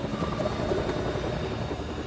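Helicopter in flight heard from inside the cabin, a loud, steady rotor and engine drone filling the whole stretch without voices.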